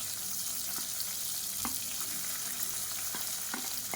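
Sliced onions frying in a pan with whole spices and a handful of mint leaves, a soft, steady sizzle with a few faint scrapes and ticks from stirring.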